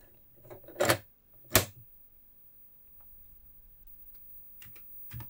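Keys clack on a Commodore Plus 4 keyboard: two loud, close strikes, then a pause and a few lighter taps, with no talking.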